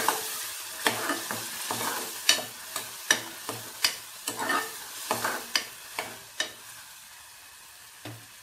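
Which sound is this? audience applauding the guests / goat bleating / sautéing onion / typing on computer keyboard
sautéing onion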